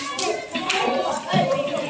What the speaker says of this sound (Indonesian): Di kelompoknya masing-masing kita mau tepuk dulu.